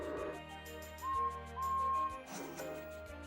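Steam locomotive whistles sound at a railroad museum, two steady tonal blasts in the middle of the clip among quieter narration-free background tones.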